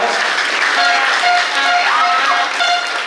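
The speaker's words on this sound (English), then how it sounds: "So let's give them a round of applause" Dense audience applause fills a school gym at an 8th grade commencement ceremony, steady and fairly loud throughout, with faint tonal sounds over the clapping.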